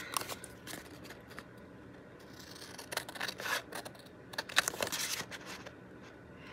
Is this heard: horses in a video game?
no